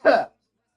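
A single short, sharp sneeze burst, close and fairly loud, lasting a fraction of a second before silence.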